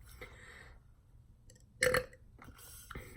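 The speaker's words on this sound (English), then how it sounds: "I'm burping with water." A single short, loud burp after a drink of water stands out against faint room noise, with soft rustles and mouth sounds before and after.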